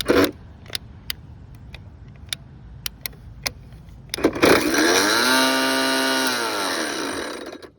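Ryobi 40V brushless edger: a few sharp clicks and handling taps, then the motor starts with a rising whine that settles into a loud, steady high-pitched spinning drone, close by, easing off at the end.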